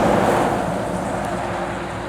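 A Scania truck passes by on a road, a loud, broad rushing roar that slowly fades over about two seconds, mixed with wind buffeting.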